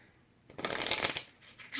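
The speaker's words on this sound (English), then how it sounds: "riffle shuffle really well" Plastic-core playing cards, a small deck of only 24, riffle shuffled up close, giving a brief burst of snappy, crisp plastic flutter that lasts under a second before fading into quieter handling.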